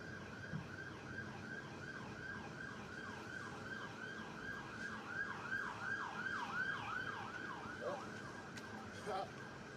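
A police siren wails in a rapid, repeating up-and-down pattern, somewhat distant, over low traffic rumble, with a few faint other sounds near the end.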